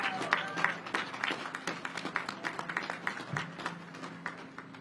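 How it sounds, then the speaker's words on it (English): An audience at a Navy submarine commissioning ceremony applauds Navy families, a moderate, even spread of clapping from a crowd heard at some distance throughout. "let's give a big round of applause to those Navy families again"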